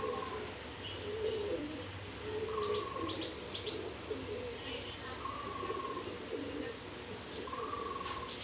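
A pigeon cooing while being held in the hand, with low repeated coos over steady background noise and distant chirping birds.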